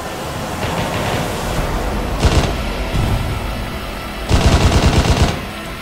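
Video game shootout with sustained rattling automatic gunfire, swelling into two louder bursts of rapid shots, dense and close against a steady noisy background.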